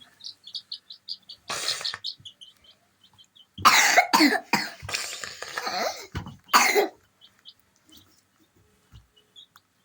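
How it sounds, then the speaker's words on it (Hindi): Several harsh coughs come in bursts, close and loud, with a short pause between groups, while faint chick peeps continue softly in the background. "खांसी आ रही है"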